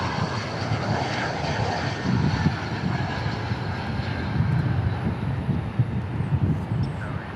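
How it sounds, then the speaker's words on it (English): A Finnair Airbus A350 jet taking off at DFW Airport: a broad, sustained engine roar and rumble heard from a distance, steady with slight swells throughout. "the Finnair A350, Hans, it's already, I think it's about to take off"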